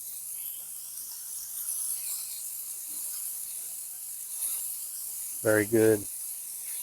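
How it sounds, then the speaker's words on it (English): Burgers sizzle on a hot Camplux grill set to low, a steady bright hiss running throughout, with a brief spoken remark near the end. "I'm cooking these burgers on low and they're cooking pretty quick"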